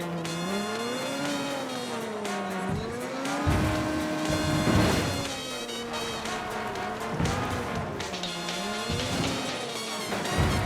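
A car in the video game Ghost Recon Wildlands drives with its engine revving up and down in rising and falling pitch, with a few tire noises and brief bursts of other game sounds.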